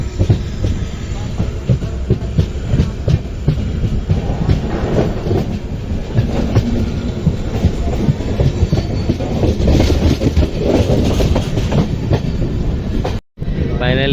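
The Panchaganga Express, train number 16595, running on rails toward Murudeshwar, a loud continuous rumble with rhythmic clickety-clack of wheels over rail joints, heard close from on board, with a brief dropout near the end.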